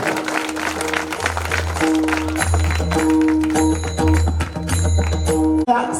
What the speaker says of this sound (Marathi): जोरदार टाळ्या घाला पाहिजे